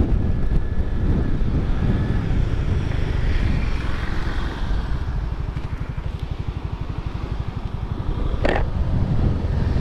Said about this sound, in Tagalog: Yan yung part na malakas yung hangin yan